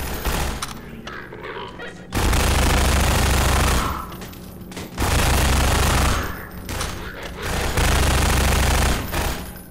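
Combine soldiers in Half-Life 2 fire in long, loud bursts of automatic gunfire, three sustained volleys separated by brief lulls, with the player's voice faintly heard in between.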